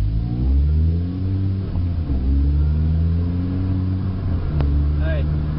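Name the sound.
manual transmission car pulling away and accelerating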